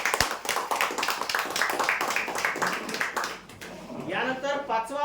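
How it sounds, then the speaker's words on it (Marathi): An audience claps for lucky draw winners, a rapid patter of applause under a voice that thins out toward the end. "जोरदार टाळ्या यासाठी"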